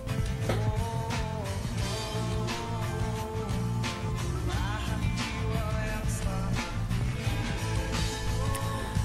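A full song with vocals and instruments plays back steadily in Audacity, vocals panned to the right channel, moderately loud with continuous rhythmic beats throughout.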